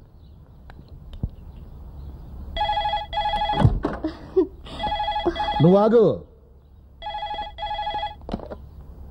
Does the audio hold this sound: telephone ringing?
yes